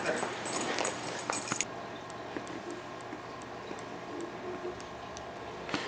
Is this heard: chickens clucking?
no